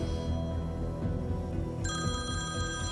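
A mobile phone ringing indoors, a steady electronic ringtone with sustained bright tones that continues throughout against a dense room background.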